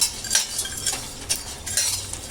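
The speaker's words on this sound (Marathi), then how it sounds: "हे मंद आचेवरती भाजावं लागतं।" Almonds and pumpkin seeds roasting in a pan over a low flame, stirred with a utensil that gives several sharp scraping clinks over a faint background hiss, close and alone.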